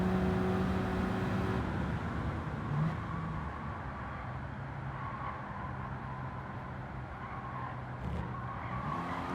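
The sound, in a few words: car coasting around corner in Gran Turismo 7 video game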